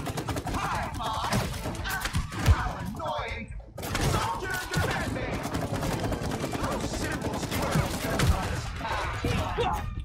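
Rapid gunfire from It Takes Two, fast rattling bursts and thumps mixed with shattering impacts, dense and loud across the stretch, with excited voices talking over it.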